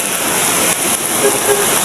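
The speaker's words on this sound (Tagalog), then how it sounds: "Walang tigil ka ulan." Heavy monsoon rain from the habagat pours down in a dense, steady hiss with no break, loud and close throughout.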